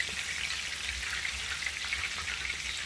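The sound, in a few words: meatballs frying in oil in a pan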